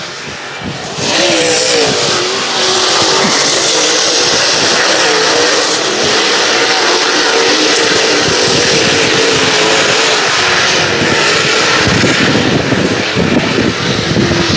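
Super late model and super stock race cars roar around a dirt track, a loud continuous engine drone that swells and sustains as the pack runs the high side through the turns.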